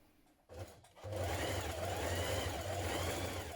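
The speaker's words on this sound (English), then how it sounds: "So 2 rows, a regular large straight stitch for this." A sewing machine runs a long straight stitch along a knit dress from the Butterick 6858 pattern. After a brief start-up, the close, steady mechanical hum continues evenly to the end.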